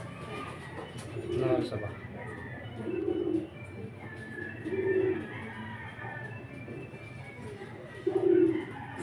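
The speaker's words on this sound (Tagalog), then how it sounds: "Ayan, mga kalapatids. Naghihintay sila ng pagkain, hindi sila gumagalaw." Racing pigeons coo softly in low repeated bursts, roughly every one to two seconds, while waiting for food. Someone speaks briefly over the birds.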